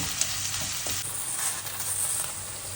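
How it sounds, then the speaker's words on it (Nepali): Onions fry with cumin, garam masala and cloves as the base for a mutton gravy, a close, continuous sizzle with soft stirring underneath. "मैले यसमा चाहिँ यो ग्रेभीको लागि प्याज फ्राई गर्दै छु"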